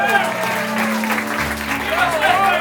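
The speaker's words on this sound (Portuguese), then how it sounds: "E queria que vocês dessem uma salva de palmas pro meu pai." Applause from guests at a child's first birthday party in Maceió, a steady round of clapping for the host's father, with voices and background noise mixed underneath.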